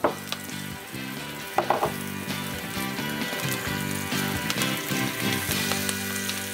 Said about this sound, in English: I'm going to just put a little splash of veggie oil here to saute my veggies